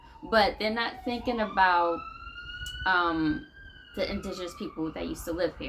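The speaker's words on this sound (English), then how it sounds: "excuse the loud siren" A loud siren wails with a slowly falling pitch, continuing steadily while a person keeps talking over it.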